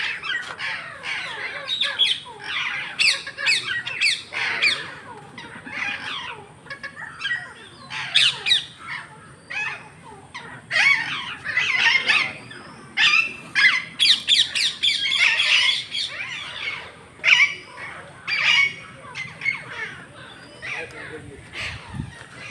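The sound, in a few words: mountain parrot squawking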